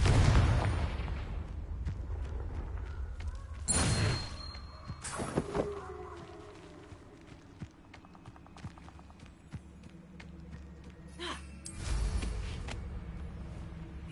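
Confringo blasting spell in the video game Hogwarts Legacy: several loud, sudden explosive bursts with crackling debris and a booming low end, separated by quieter stretches of ambient game sound.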